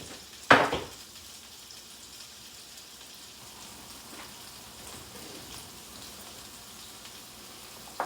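Onions drop into a hot new wok with a sharp burst of sizzle and clatter, then a steady soft frying hiss continues alone to the end.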